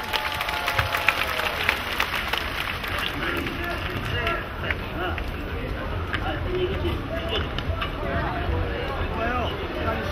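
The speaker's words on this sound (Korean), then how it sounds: "여러분 힘찬 박수로 맞아주십시오." Dense, steady applause from a large audience at a patriotic rally, welcoming a former four-term lawmaker to speak on North Korean human rights; loud, continuous clapping mixed with crowd murmur throughout.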